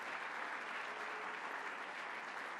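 A crowd at a New York governor's event applauds the Bronx Borough President in a steady, dense wash of clapping that stays even and continuous, heard somewhat distant and faint.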